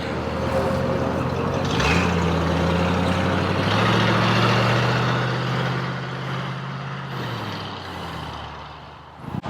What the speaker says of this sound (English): Off goes the Oldsmobile, just cruising.